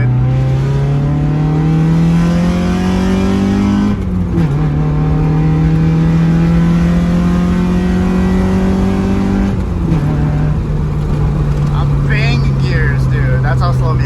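A Mazda Miata 1.6 pulls from second gear, its engine loud and close as it climbs steadily through the revs, dips briefly at each shift, then climbs again, with people talking over it.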